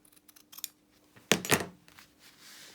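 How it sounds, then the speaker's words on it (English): Scissors snipping through a stitched fabric seam corner while sewing a vinyl-fronted project bag, two quick close cuts in a row after a few faint handling clicks. "So now let's take our scissors and take off 1/4 inch."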